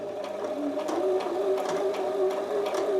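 A sewing machine runs steadily while stitching the horizontal top bar of a buttonhole, a continuous close mechanical whir with a fast rhythmic needle tapping.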